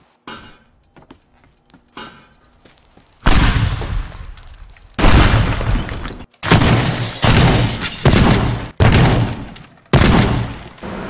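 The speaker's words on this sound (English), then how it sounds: "Let's just bomb the place." Bombs explode and tear apart a building in the video game Teardown: a run of loud, heavy blasts rolling one after another, each with a crashing, rumbling tail, and no talking.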